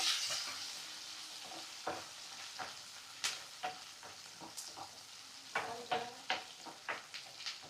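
Small shallots sautéing in a pan for chicken curry produce a soft background sizzle broken by repeated clinks and scrapes of a spoon stirring, close and irregular, with no talk.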